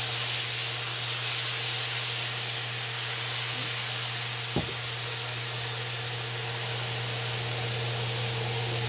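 Sherry vinegar hits meatballs frying in a hot pan, a steady loud sizzling hiss with a low hum beneath and one brief knock partway through, no voices.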